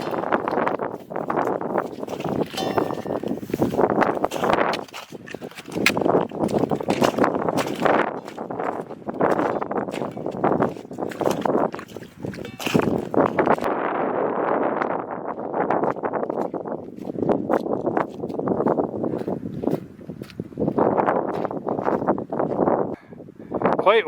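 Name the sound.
wind on exposed alpine tundra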